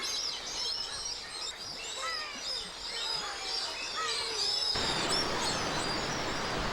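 Streaked shearwaters call repeatedly at dusk as they return to their island colony off Jeju, many overlapping high, sweeping cries from several birds at moderate distance over a soft background hiss, with no talk.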